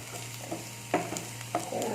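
Onions and chilli masala fry in a pan, giving a continuous close sizzle with a few soft stirring scrapes and a steady low hum underneath.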